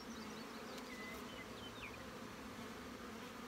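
Honey bees buzz in a crowded hive colony during a frame inspection, a steady close drone with a few individual bees whining past.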